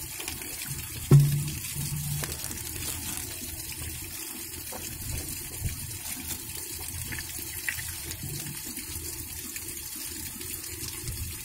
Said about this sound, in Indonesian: Oke, kita coba masukkan dulu topronnya ke